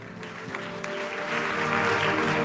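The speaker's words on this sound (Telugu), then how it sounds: "ఇప్పుడు కొట్టండి చప్పట్లు." A church congregation claps together during a deliverance service, with steady applause that swells louder and denser toward the end.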